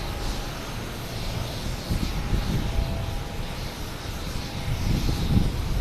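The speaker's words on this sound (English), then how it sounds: "we have Scandinavian Airlines SAS coming in from Copenhagen, an A330-300, flight 927" A Scandinavian Airlines Airbus A330-300 arriving at Boston Logan from Copenhagen rumbles as a steady, broadband engine roar that swells slightly toward the end. The sound is fairly loud and continuous, with no voices over it.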